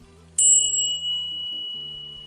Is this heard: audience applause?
no